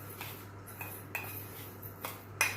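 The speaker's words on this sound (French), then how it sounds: "je touille" A utensil scrapes and taps against a saucepan as roasted vegetables are stirred into hot broth, giving a few faint, scattered metallic clinks over a quiet kitchen hum.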